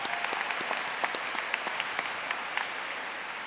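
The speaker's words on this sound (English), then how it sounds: "Round of applause for you." Audience applause at the Silver Knight Awards ceremony in Miami, a dense, steady patter of many hands clapping from a distance, holding even throughout with no talk.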